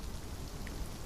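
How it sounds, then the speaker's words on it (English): Rain falls in the War and Order video game, a steady soft hiss of drops pattering on a surface with a low rumble beneath, continuous and fairly quiet. "I don't know why it's raining in the game right now."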